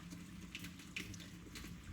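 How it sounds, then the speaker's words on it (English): Hot water poured from a tap or kettle into Royco soup powder for a vegetarian rice dish, a steady close splashing stream running throughout with a brief louder splash near the middle. "mixed it with 1 cup of hot water."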